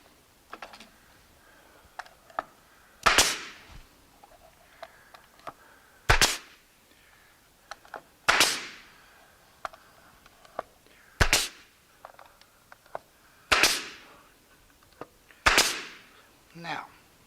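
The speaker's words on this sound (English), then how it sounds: "and then I'm going to staple it in place" A staple gun fires repeatedly to fix a guide in place, six sharp loud snaps spaced a few seconds apart, with quieter handling clicks and rustles between them.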